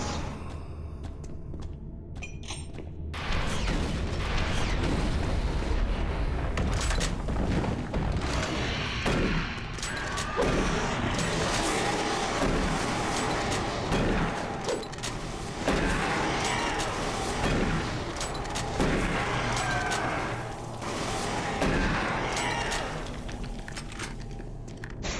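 Dense, sustained weapons fire and explosions from the video game Doom 3: loud overlapping blasts and bursts rumble together almost continuously after a quieter opening few seconds, with no talking.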